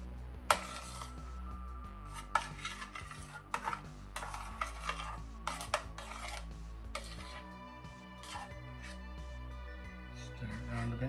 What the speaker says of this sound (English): Stir it around a bit.